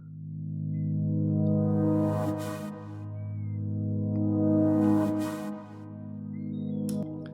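A sustained synth pad swells and fades in layered waves, with echoing repeats trailing off, playing alone.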